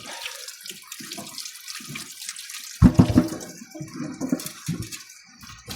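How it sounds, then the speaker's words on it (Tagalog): Water from a kitchen tap splashes over a pair of tomatoes and green chili peppers being washed together for pork belly sinigang, with an irregular patter that grows louder about halfway through. "sama-sama na po natin siyang hugasan"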